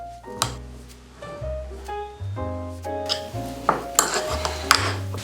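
Soft butter and thyme leaves being mixed in a bowl for a sous vide beef dish, heard as a run of clinks and scrapes from utensils against the bowl, with a few sharper knocks toward the end.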